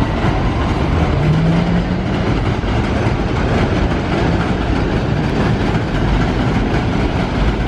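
A New York City F subway train passes close by, a loud continuous roar of wheels and rumbling carriages with rhythmic rail clatter, steady throughout with no voices.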